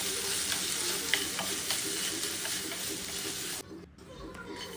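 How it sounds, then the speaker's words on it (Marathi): Sliced okra, cut lengthwise, fries in hot oil in a pan with a steady loud sizzle and occasional stirring clicks, briefly dipping quieter near the end. "पॅनमध्ये तेल टाकलेलं आहे, त्याच्यामध्ये उभी चिरलेली भेंडी टाकून फ्राय करून घ्यायची आहे"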